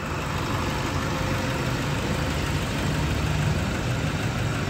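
A Toyota Innova diesel engine idles during repair at a workshop, a loud, unbroken, even rumble held steady throughout with no talking.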